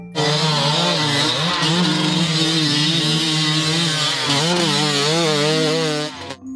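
A toy motocross bike's engine effect buzzes loudly and continuously, its whiny pitch revving up and down in wavering sweeps before it stops suddenly.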